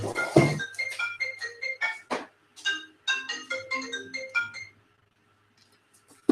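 A mobile phone rings with a repeating electronic melody during a talk, the tones coming in bursts close by before stopping into near silence.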